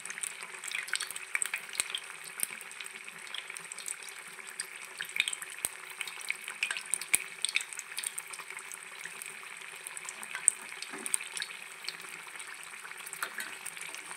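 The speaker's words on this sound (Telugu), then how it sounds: "ఫ్రై అవుతుంటాయి, గోల్డెన్ బ్రౌన్లోకి రావాలి. మెరుగపోయేంత వరకు మనం ఇలాగ వేయించుకోవాలి." Ajwain leaf bajji fritters frying in hot oil, a steady close hiss and crackle of sizzling batter with faint occasional stirring clicks, continuous and alone.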